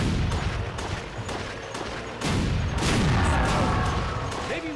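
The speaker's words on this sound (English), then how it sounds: "You shoot the blue ones and they explode into even smaller blue ones." Video game gunfire and explosions: rapid, loud bursts of shots with sharp booms, dense and continuous, ending in a heavier blast with sweeping effects.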